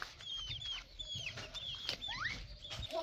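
Rooster chicks offered for sale chirp and cluck close by in quick, overlapping high calls, a busy cluster of peeps and short clucks over a faint low background.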